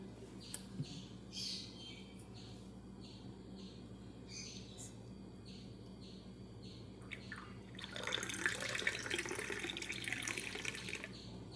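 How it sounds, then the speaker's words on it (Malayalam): Milk poured into Irani chai, a steady liquid splash that starts partway through and grows louder, after a quiet stretch with faint background sounds. "ഇനി പാലൊഴിച്ച് കൊടുക്കാം."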